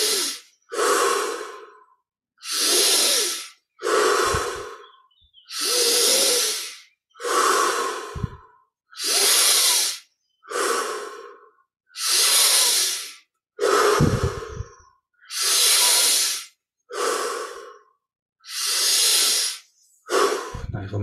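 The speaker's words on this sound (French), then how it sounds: "Puis on augmente progressivement l'amplitude des respirations." Deep, slow breathing exercise with close, loud breaths in and out, about a dozen evenly spaced breaths that grow gradually fuller and stronger, with no talk.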